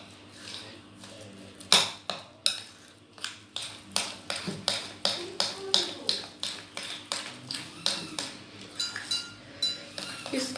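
Aloo pakora batter is mixed in a bowl, a spoon knocking against the side in a quick, steady rhythm of close clinking taps, with a voice speaking briefly in the background.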